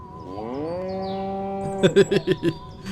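A cow moos in the video game Destroy All Humans!, with one drawn-out, loud low moo followed by a quick burst of choppy game sound effects.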